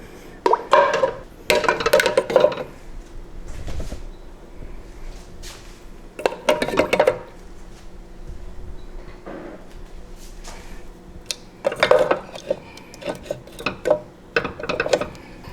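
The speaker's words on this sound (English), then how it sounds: "I'm gonna put my tuna jars in here." Glass canning jars for tuna clink and knock against a metal pot in several clustered bursts, with quieter handling noises and pauses between placements.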